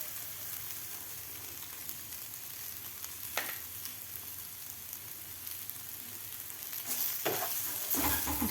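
Garlicky okra mixed with crushed peanut powder is stirred in a hot pan, a low continuous sizzle with a few scraping spatula strokes, getting louder and busier near the end.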